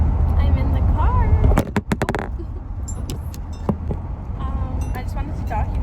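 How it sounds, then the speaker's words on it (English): Inside a moving car, a steady low road and engine rumble fills the cabin, with a short burst of clinks and jangles partway through; a person talks over the noise. "I'm in the car."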